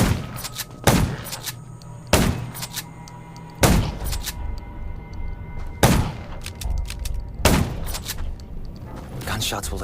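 Gunshots in the video game Undawn, five sharp heavy blasts spaced roughly two seconds apart, each with a short echoing tail, over low ambient game sound and a voice speaking.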